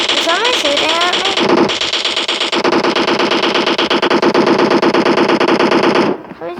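Gunfire in the video game PUBG, dense bursts of automatic fire layered into a loud, continuous rattle that runs for about six seconds before dropping away.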